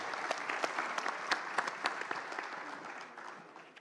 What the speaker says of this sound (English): great applause, please, to our wonderful panelists